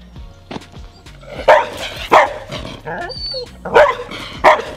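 A young, anxious female dog, about a year old and previously kept in a kennel box, barks in a series of sharp, close barks with short gaps, mixed with faint whimpers.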